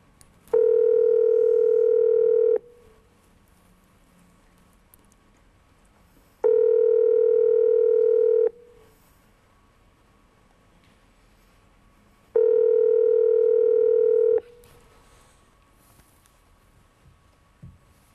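A landline telephone dial tone sounds in three steady two-second bursts separated by pauses, loud and clear with no talking, as a call to a father is being placed.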